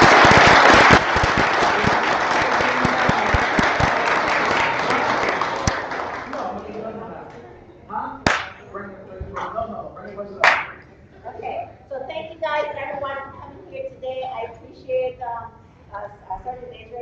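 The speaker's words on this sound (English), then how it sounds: "by a round of applause, think that Major Harris deserves his coin" An audience at a military professional development event breaks into loud applause that lasts several seconds and then tapers off, followed by scattered claps and a person speaking.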